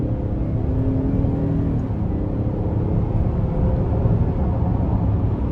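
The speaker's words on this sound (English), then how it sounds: "Let's give it some throttle here." A 2022 Chevrolet Traverse Premier accelerating under throttle, heard from inside the cabin as a steady, loud low engine drone and road rumble that holds constant throughout, with no talking.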